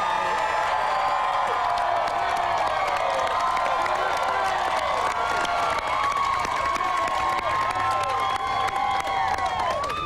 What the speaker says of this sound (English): Let's give them a big round of applause, everybody.